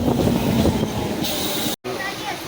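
A nearly empty passenger train near Jaleswar and Balasore rumbles and hisses steadily from close by inside the carriage, with a brief cut partway through and a faint voice mixed in.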